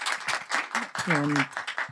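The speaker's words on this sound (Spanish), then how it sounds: "un fuerte aplauso para Alexandra, por favor" Audience applause for film director Alexandra Latishev at a screening of Medea, a steady patter of clapping with voices speaking over it.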